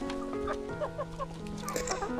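A flock of chickens clucks and squawks in overlapping bursts while scrambling for food, close and lively, with no talking.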